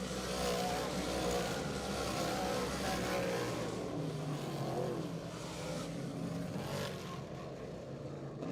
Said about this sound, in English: Off the corner, here's a checkered flag for Johnny Bangs here in heat number 1.